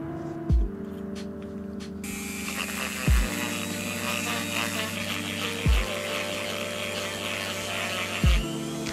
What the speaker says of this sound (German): Hier innen ist natürlich jetzt überall kleiner Grat. Das schleife ich eben weg.